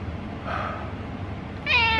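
A cat gives two meows, a soft one early and a louder, sharper one near the end, close by over a low background rumble, with no talking.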